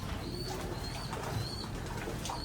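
Opal and checkered racing pigeons coo softly, nearby but faint, against a low steady background hum, with no talk.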